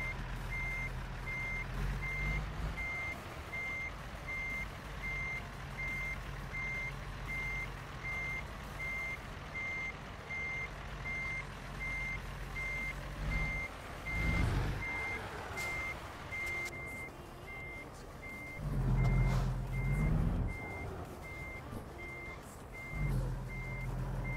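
Reverse-warning beeps from a heavy-cargo truck in American Truck Simulator repeat in a steady, evenly spaced pattern over the low rumble of the diesel engine, with a few louder engine surges along the way.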